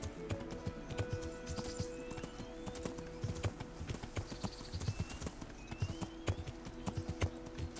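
Horse hooves clip-clopping at a steady trotting rhythm, close and loud, in the medieval game Kingdom Come: Deliverance, with a brief whinny and a busy background of layered game music and ambience.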